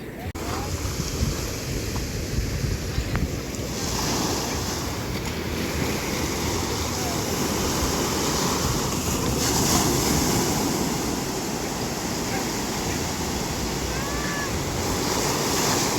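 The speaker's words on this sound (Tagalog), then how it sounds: "may malaking alon, no?" Ocean surf breaks and washes onto Rancho Beach in Bicol, a continuous rushing roar with wind buffeting the microphone and faint voices in the background.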